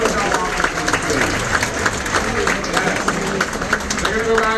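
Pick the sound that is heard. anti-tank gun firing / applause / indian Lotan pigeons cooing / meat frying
applause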